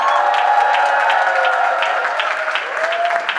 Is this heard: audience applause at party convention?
yes